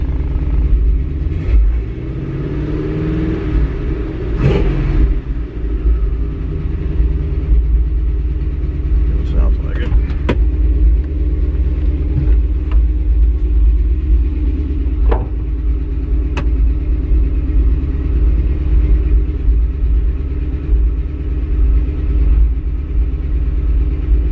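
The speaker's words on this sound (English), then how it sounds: "Another exhaust leak." A car engine with an exhaust leak idles steadily with a low rumble, a faint rhythmic ticking from the right side of the exhaust, and occasional clicks and knocks nearby.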